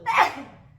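A single close, loud sneeze bursts out and then trails off quickly while someone sorts through dusty thrift-store clothing.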